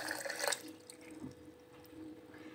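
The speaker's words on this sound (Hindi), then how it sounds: "थोड़ा सा पानी डाल लेंगे।" A little water is poured onto chopped raw mango and sugar in a home kitchen, with a brief splash at the start followed by faint, scattered dripping.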